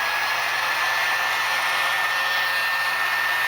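A hair dryer blows steadily and loudly up close, drying paint on a 1/1400 scale AMT Enterprise C model kit, a constant airy roar with a thin whine.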